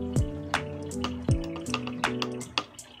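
Water conditioner powder is stirred into water, giving wet clinks, drips and sloshing splashes in an irregular rhythm, close and fairly loud, with no talking.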